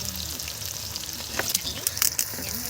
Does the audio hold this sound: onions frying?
yes